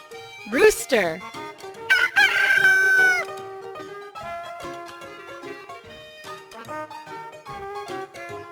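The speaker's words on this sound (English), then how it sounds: "Rooster." A cartoon rooster crows loudly twice in quick succession over a light children's music backing, the second crow long and drawn out, followed by continuing tune.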